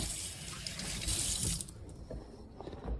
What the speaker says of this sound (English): I'm gonna clean off my hands again